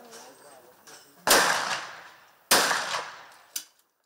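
Shotgun blasts ring out during a 100-target clay shooting competition at a shooting range in Nyíregyháza: two loud reports with long decaying echoes, then a sharper, shorter shot, with faint background sound between them.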